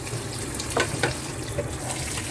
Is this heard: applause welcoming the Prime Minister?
no